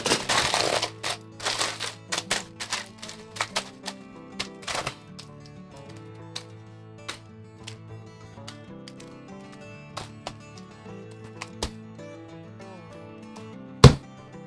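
Aluminum foil is crumpled and pressed into a large ball, giving sharp irregular crackles and crinkles, dense at first, then sparser snaps with one loud crack near the end, over steady background music.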